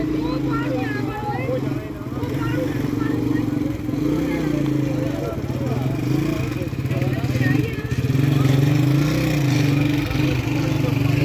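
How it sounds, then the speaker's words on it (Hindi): A tractor engine labours steadily while pulling a truck stuck in mud with a tow chain after rain in Kashmir, a loud continuous rumble with people talking throughout. "ट्रैक्टर के साथ ही टो चेन करके ट्रक निकालने की कोशिश कर रहे हैं।"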